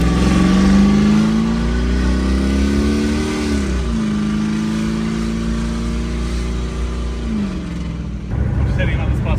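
A Jeep WJ engine hums steadily from inside the cabin on a test drive after steering knuckle replacement, rising and falling in pitch as it drives, with a shift in sound near the end.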